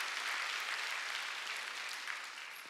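A church congregation at a Sunday worship service claps together, a dense, even patter of many hands lasting a few seconds and fading slightly at the end, heard somewhat distant and alone.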